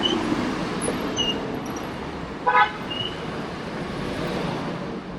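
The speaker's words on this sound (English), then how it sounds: "This is Satwa bus station." Busy street ambience at Satwa bus station in Dubai: a steady wash of traffic noise with a short car horn toot near the middle and faint scattered higher tones, moderately distant, no talking.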